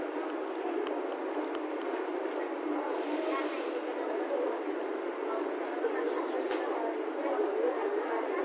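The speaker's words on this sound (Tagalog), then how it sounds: "Ayan, train station sa taas" A train rolls past on an overhead railway station track, a steady broad rushing rumble and hiss that holds for the whole stretch, with a brief brighter squeal partway through and faint voices underneath.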